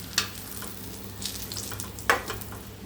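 Plantain slices fry in hot oil in a pan and get stirred, giving a steady soft sizzle with a few sharper scraping bursts from the spoon. Nobody speaks.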